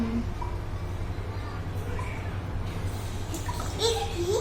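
A young child being bathed, with water splashing and running steadily under a constant low hum, while an adult gives instructions and a voice chimes in near the end.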